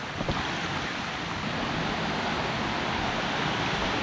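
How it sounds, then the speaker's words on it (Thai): Shallow stream water rushes steadily over rocks at a river crossing in a mountain valley at Khao Hua Muak, Nakhon Nayok, a broad continuous hiss close by with no voices. "ตรงนี้มีการข้ามแม่น้ำนิดนึง ข้ามลำธารนนะ"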